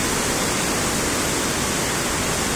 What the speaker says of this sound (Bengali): এখানে সেই জল খুব স্রোত, দুরন্ত স্রোত, প্রচুর বড় নদী, এটা অনেক বড় নদী।